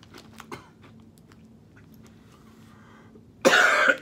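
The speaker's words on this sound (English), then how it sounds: "Can I take any bites without coughing up a storm?" A person coughs hard and suddenly near the end while eating spicy apple pie Chex cereal, a loud close burst after quiet mouth sounds and faint chewing.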